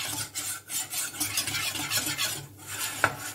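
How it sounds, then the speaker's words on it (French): A roux of melted butter and flour stirred steadily in a pan for béchamel, a soft continuous scraping with a faint sizzle and an occasional light clink of utensil against the pan. "Une fois que c'est fondu, vous mettez votre farine. Vous mélangez pour faire votre roux."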